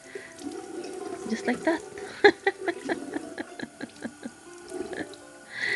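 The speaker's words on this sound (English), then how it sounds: "in the morning I just wash my face with, yeah, water, tap water" Tap water runs and splashes in a sink while a face is washed in the morning, with irregular close splashes and drips and someone speaking over part of it.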